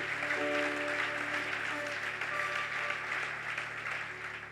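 Applause from a church congregation praising the Lord, a steady, moderately distant wash of clapping that holds for several seconds and slowly thins toward the end, with no voices standing out.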